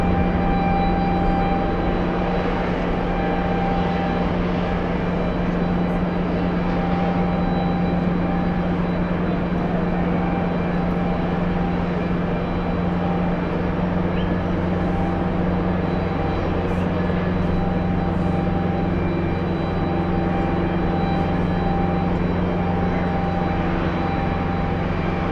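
A JetBlue airliner pushes back from a gate at JFK airport, with a steady, droning engine and ground hum that holds evenly throughout, no talking.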